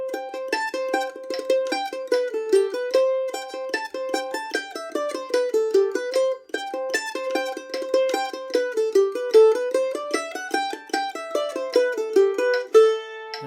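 Mandolin picking the Irish reel The Gravel Walks, a quick run of bright single notes in steady reel rhythm with triplet ornaments, played solo and close with no voice.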